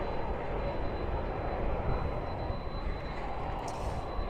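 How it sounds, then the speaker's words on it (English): An American Airlines flight departing Dallas/Fort Worth International Airport at night for Phoenix, heard as a broad, steady jet-engine roar at moderate distance with no talking. "That is American Airlines Flight 339 going to Phoenix"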